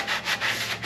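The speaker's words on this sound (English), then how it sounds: "I got to do some more sanding now." A sponge sanding block scuffs across a truck body panel on a scrapyard K5 Blazer project, giving a few close, rhythmic rubbing strokes back and forth with no voices.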